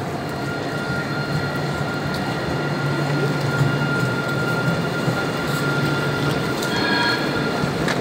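A tram rolls past on a Strasbourg street during the Christmas market, a steady loud rumble of wheels on rails with faint high squeals, continuous and close for the whole stretch.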